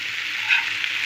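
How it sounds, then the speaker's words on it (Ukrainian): Mushrooms sizzle steadily in a hot frying pan, a close, even frying hiss with a brief swell midway. "Шампіньйони вже на сковорідці, я буду їх готувати до викорення"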